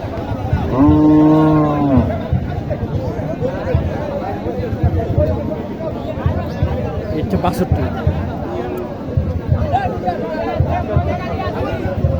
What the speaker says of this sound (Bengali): এখানে একটি গরু দেখি